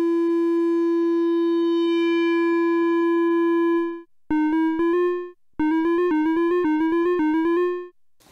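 A modular synthesizer gives a bright, buzzy tone with a resonant filter. A long sustained note fades out slowly, then a series of rhythmic plucked notes rings out with long release tails, close and alone.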